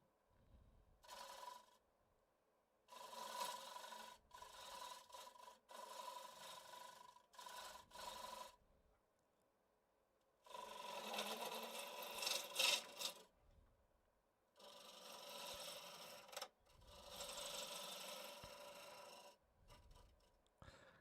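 Sanding a square platter on a wood lathe: repeated bursts of broadband rasping friction, each a few seconds long, separated by short quiet gaps, close and fairly steady, with no talking.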